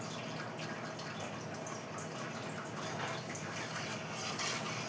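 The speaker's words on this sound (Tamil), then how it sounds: "இது ஒரு 2 டம்ளர் தண்ணி ஊற்றணுமா" Water pours steadily into a cooking pot while tomato kurma is being made, a continuous soft splashing hiss with no pauses, close by and fairly quiet.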